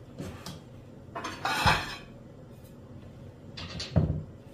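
A metal pot and a plate clatter and clink as they are handled during tallow making, several sharp knocks and scrapes spaced apart amid quieter shuffling.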